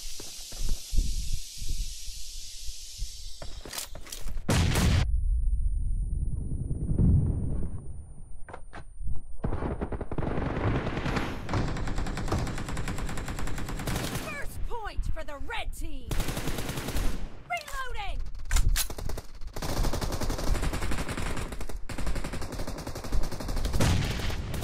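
Gunfire in a team match video game: several sharp, loud blasts in bursts with quieter stretches of movement and footsteps between them, and some voice in the background.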